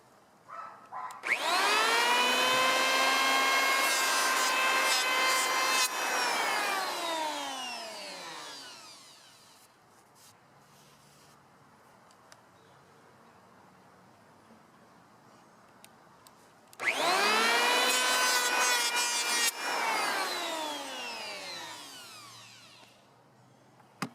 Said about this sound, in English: that planer did pretty good at smoothing all this over, all the glue off of there, and made these smooth